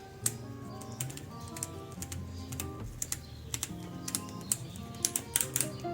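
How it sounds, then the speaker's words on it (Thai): An Ohlins rebound adjuster on a Forza 350 scooter shock is turned, giving a quick run of sharp, close clicks in irregular bursts. "อันนั้นเราก็จะทำการทดสอบ ฟังเสียง จังหวะการปรับรีบาวนะครับ"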